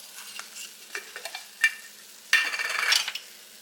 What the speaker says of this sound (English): so we're going to stir that up